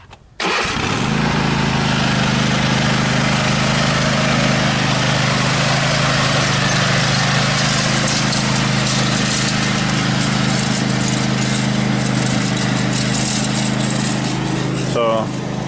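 A tractor engine starts up and then runs at a steady, loud drone across a hay field, a constant low rumble close by that holds for the whole stretch with no talk over it.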